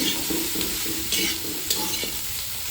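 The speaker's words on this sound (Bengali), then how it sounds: "ফুলকপি ভাজা হচ্ছে" Cauliflower sizzling and frying in a hot pan, with a spatula scraping and stirring at intervals; close and fairly loud.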